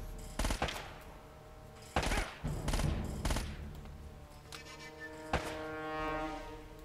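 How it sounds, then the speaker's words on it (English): Gunfire in Uncharted: Drake's Fortune, set in a drowned city: several rapid bursts of automatic fire and single heavy shots from fairly close, with sustained game ambience and tonal music between them. "I don't know where that person's shooting me"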